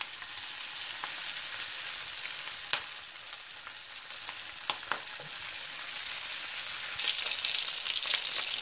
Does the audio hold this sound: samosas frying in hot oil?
yes